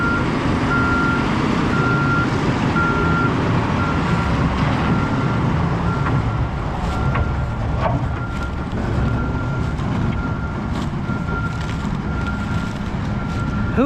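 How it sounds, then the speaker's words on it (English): Wheel loader working and packing asphalt grindings, a loud steady diesel engine drone throughout with a repeating reversing beep pulsing over it, close and continuous. "Who the heck needs an asphalt roller when you own a wheel loader?"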